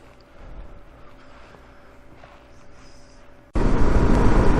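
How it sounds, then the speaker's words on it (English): A KLR 650 adventure motorcycle rides at night toward a campsite, its engine a steady low drone with wind rush that jumps abruptly to a loud, dense roar near the end. "This is what it looks like to ride a adventure bike at night to a campsite."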